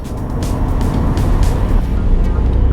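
A 2014 Scion FR-S sports car's engine drones steadily and loud from inside the cabin, rising and easing as it runs through the gears, with road roar underneath.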